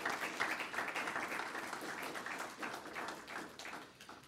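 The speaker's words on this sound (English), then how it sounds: "one more round of applause would be appropriate" A modest round of applause comes from a board of education meeting audience. Scattered hand clapping runs for about four seconds at a fairly quiet, distant level.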